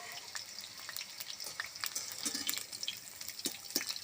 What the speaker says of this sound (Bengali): এবার আমি ডুমুর আর পটলটা ভেজে নিচ্ছি।